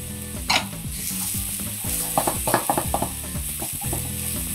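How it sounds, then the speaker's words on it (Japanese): Onion and thin strips of green pepper stir-frying in a pan, a steady close sizzle with repeated scraping, clinking stirs of a utensil against the pan throughout, no talking. "ちょっと玉ねぎがしんなりしてきたら、ここにピーマンの細切りを加えます。"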